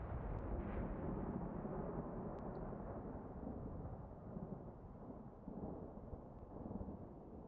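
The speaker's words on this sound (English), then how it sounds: "You can press this button, and it detonates a nuke." A nuclear detonation set off by a button at a test site in a Fallout 76 player base, a long deep rolling roar that rumbles steadily throughout with no speech.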